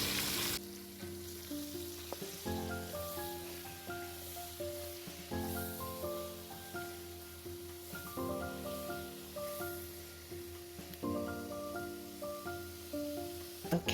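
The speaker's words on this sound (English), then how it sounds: "Okay, let's go ahead and add the saltfish to the sauteed vegetables." Saltfish and sautéed vegetables sizzle steadily in a pan throughout, with occasional stirring scrapes; background music with melodic tones plays over the cooking, and no one speaks.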